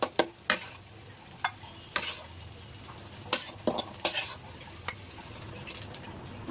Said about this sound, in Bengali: আবার একটু তেল দিয়ে দিলাম। তারপর এখানে রসুন কুচি দিয়ে দিলাম।